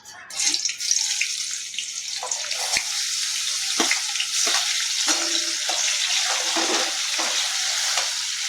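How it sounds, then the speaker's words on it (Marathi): Tomatoes frying in hot oil in a kadai, a steady broadband sizzle that runs continuously with brief stirring clatters and small pops, close and fairly loud, no talk. "कढईमध्ये तेल टाकले, त्याच्यामध्ये आता टमाटर टाकू"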